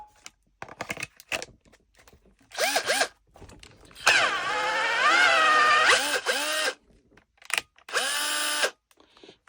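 Cordless screwdriver running on a repacked battery, its motor whirring in several bursts that rise and fall in speed, including a long continuous run, close and clear with short pauses between.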